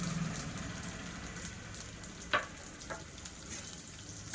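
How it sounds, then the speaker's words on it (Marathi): Onion and curry leaves fry in a pan after sesame seeds for muthiya. Crackling and sizzling are soft, with a warmer burst at the start and a few sharp pops and utensil taps spread through the clip. "आता कांदा आणि कढीपत्ता टाकते"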